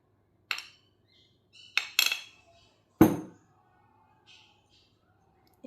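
A spoon taps against a small bowl in a few quick, close clinks and scrapes while rice flour and honey are scooped out for a homemade face scrub, with a short, louder clatter midway and silence between strikes.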